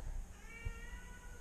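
A pet cat gives a single short meow at moderate distance indoors, over faint room noise, with no speech.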